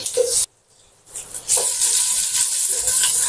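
Anchovies and four cloves of garlic stir-frying in a home pan give a loud, steady broadband sizzle, broken by a short near-silent gap early on, then hissing continuously to the end.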